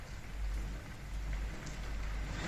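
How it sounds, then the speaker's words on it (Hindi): Heavy rain pouring in Churu during a winter cold spell, a steady broad hiss of downpour with a low rumbling undertone, no speech. "मैं साफ तौर पे दिखा सकता हूँ कि पीछे मेरे बिल्कुल बारिश हो रही है और काफी तेज बारिश है"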